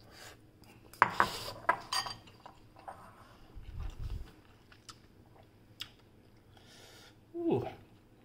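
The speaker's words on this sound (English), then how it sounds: "Just trying to mix it up some more with the sauce down there." Samyang Buldak spicy light noodles are stirred with sauce in a bowl, giving scattered utensil clinks and scrapes, with chewing and a soft murmur between the clatter.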